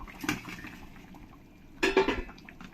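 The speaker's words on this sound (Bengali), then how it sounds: "এই পকোড়াগুলো দিয়ে দেবো" Banana pakoras are dropped into a simmering curry with a short burst of utensil clatter, then a louder cluster of metal clinks and soft splashes a moment later, close by against a quiet background without speech.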